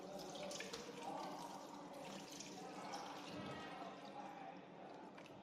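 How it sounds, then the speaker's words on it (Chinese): Clear water is poured into a pot of pork until it covers the meat for braising. The pour is a soft, steady, continuous rush of liquid, quiet and close, with no voices. "然后倒入我们的这个清水，清水呢没过这个猪肉就行了"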